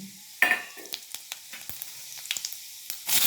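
Cumin seeds hit hot oil in a kadai and burst into a loud crackling sizzle. Scattered sharp pops follow at uneven intervals, then a fresh surge of sizzling near the end, all close up with no voices.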